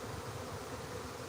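Swarm of honeybees buzzing in a steady, faint, dense drone that continues without a break for a second or so.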